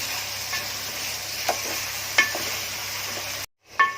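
Spices fry hard over a high gas flame for a chicken malai handi, a steady close sizzle broken by a few sharp scrape-and-stir clatters, with a brief drop to silence before the frying resumes.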